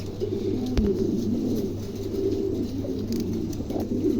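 A pair of pigeons for sale coos steadily nearby, low rolling calls continuing in an unbroken stream over a constant low hum, with one sharp click early on.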